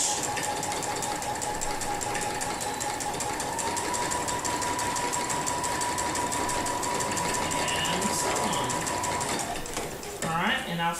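A sewing machine stitches free motion quilting of interlocking curves, whirring close and steady for about ten seconds before slowing and stopping, followed by a brief rattle.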